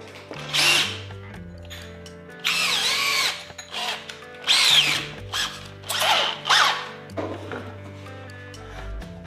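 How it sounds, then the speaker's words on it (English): Power drill boring pocket holes through an Armor Tool pocket hole jig, loud whirring bursts that start and stop about six times in an irregular rhythm, close by, with quiet pauses between runs. "we now put the drill bit into the two holes here and commence drilling"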